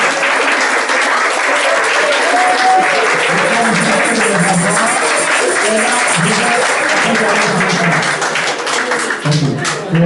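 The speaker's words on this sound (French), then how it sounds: "J'aimerais appeler ici tous les musiciens aujourd'hui présents, qu'on les acclame pour moi" A church congregation at a Sunday service applauds the musicians, loud dense clapping with scattered cheers and voices mixed in, sustained for about ten seconds with a slight dip near the end.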